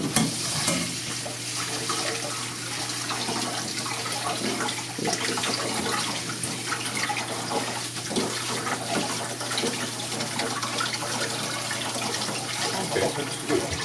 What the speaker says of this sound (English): Run cold water.